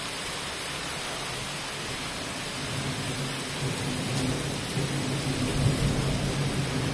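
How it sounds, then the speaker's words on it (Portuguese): Heavy rain pouring down in Martins, a steady broadband hiss that thickens slightly toward the end, with a low rumble underneath and no voices. "Muita chuva mesmo."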